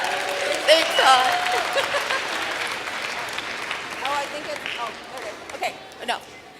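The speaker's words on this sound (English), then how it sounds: "Please, a round of applause for Todd" Graduation ceremony crowd at Santa Fe Community College applauding steadily throughout, a dense wash of clapping with voices and cheers rising over it.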